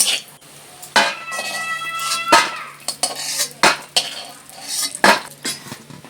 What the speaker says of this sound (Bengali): আমি কড়াতে পরিমাণ মতো তেল নিয়ে নিয়েছি। তেলটা গরম হয়ে যাওয়ার পরে আমি বড়িগুলোকে ভেজে নিচ্ছি।